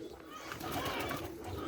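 Outdoors, a roller pigeon gives a soft cooing call at moderate distance over faint background noise.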